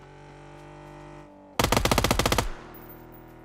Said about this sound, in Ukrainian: Ей, машина!